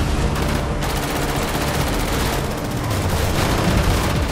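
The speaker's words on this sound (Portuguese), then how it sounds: "Os caras tão atirando na maldade, mano." Dense, continuous gunfire from a police shootout in GTA V, loud overlapping bursts and rattling automatic fire filling the whole stretch with no pause.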